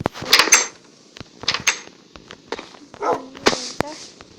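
Several short, sharp dog barks from Minecraft in bursts, with brief pauses between them, close and fairly loud.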